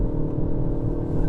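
A 2025 JCW MINI Countryman accelerating hard, a loud, steady engine and road rumble heard from inside the cabin with a droning harmonic tone throughout, no speech over it.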